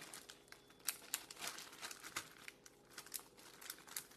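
Paper or plastic bag crinkling and rustling close up as a banana and an avocado are packed inside, a steady run of crisp crackles with sharper bursts scattered throughout, no voices.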